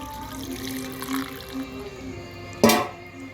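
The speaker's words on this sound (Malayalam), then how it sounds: "ഇതിലോട്ട് ആവശ്യത്തിന് വെള്ളം ഒഴിക്കണം നമുക്ക് ആവശ്യത്തിന് വെള്ളം ഒഴിക്കുക കുക്കറിൽ നിന്ന് വേവാനാണ് ഈ വെള്ളം ഒഴിക്കുന്നത്" Water pours into a pressure cooker holding country chicken, a continuous close trickle that ends in one sharp, louder splash near the end.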